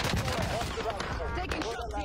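Sustained video game gunfire in a hectic shooter match with an airstrike nearby, loud dense bursts of shots and explosions piling up continuously, with players talking over the noise.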